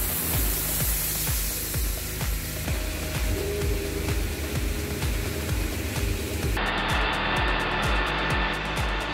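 An induction hardening machine runs with a loud, steady hiss and hum under a fast, regular mechanical pulsing; the hiss brightens sharply near the end.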